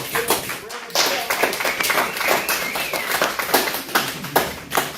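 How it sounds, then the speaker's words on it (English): Applause from a congregation at a spiritual gathering, a lively patter of many hands clapping with distinct sharp claps rising and falling in waves, fairly close and steady for several seconds. "Thank you for that round of applause."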